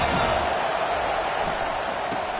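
A large stadium crowd at a college football game roars in a steady, dense wash of noise that stays loud and even throughout.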